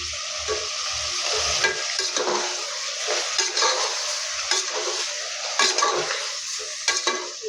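Curry with thick curd and dried spice powder sautéing in a pan, a steady close sizzle broken by repeated scraping stirs and soft clinks of the spoon against the pot, with no talking.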